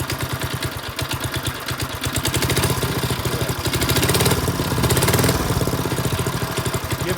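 A small engine idles unevenly with a steady rapid chugging pulse, rising slightly in the middle and running loud and close throughout with no voices.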